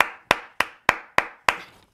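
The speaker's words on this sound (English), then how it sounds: "I'm gonna clap for him." A single person gives six sharp, evenly spaced hand claps, each crisp and close with a quick decay, heard alone in a quiet room.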